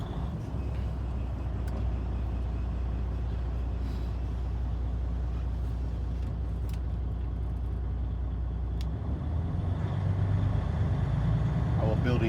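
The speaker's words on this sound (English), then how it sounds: "I'm going to go ahead and start the vehicle, making sure that it's in neutral and both brake valves are pulled out." A truck's diesel engine runs in neutral with steady, loud low rumble and idle, a few brief clanks and hisses on top, during a CDL air brake test.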